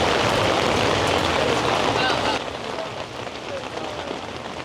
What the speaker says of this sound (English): the rain is preventing the potential from doing its thing